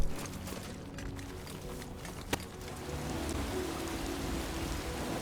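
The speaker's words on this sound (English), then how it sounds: "Right, so we have some water in the form of rain and a little running stream down below." Rain falls in the video game Death Stranding 2, a steady hiss of drops on the ground with one brief sharp crack partway through. A small stream runs nearby, and no one speaks.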